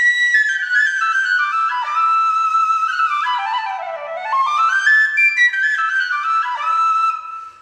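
A McManus tin whistle made of Spanish olive wood plays a bright, flowing melody with sliding, ornamented notes, heard solo and close for several seconds.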